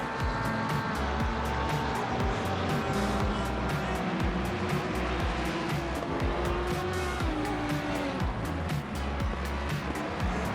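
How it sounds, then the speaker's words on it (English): Race cars roar around the track in Assetto Corsa Competizione, with engines droning continuously, tires squealing and rapid gear-shift bursts during a massive crash, loud and unbroken throughout. "After that, another massive crash unfolds at Sector 2"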